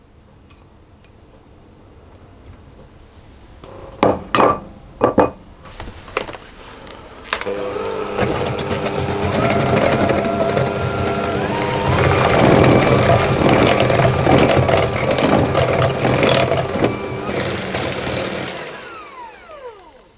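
An electric mixer blends creme fraiche into wild blueberry muffin batter. A few sharp knocks come first, then a steady whirring motor runs for about ten seconds before it winds down.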